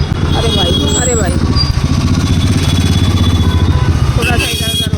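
A motorcycle engine drones steadily close by while people talk loudly over it throughout.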